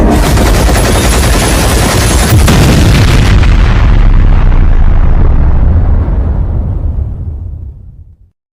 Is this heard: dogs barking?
no